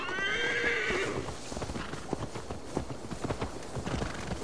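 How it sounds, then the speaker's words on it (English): A horse in Assassin's Creed Valhalla gives a sharp neigh, then its hooves clop in a steady, uneven series of close thuds over a soft game background. "Come on, Death Horse."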